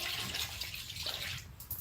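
Cleaning liquid is poured into a bowl with a brief, soft, continuous splashing wash that trails off near the end.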